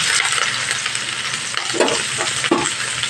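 Chopped onion and green chili frying in hot oil, a loud continuous sizzle with a few stirring scrapes, close up and with no voices.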